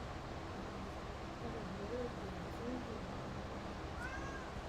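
An indoor cat gives a few soft meows, faint and partly buried under a steady, broad wash of background noise.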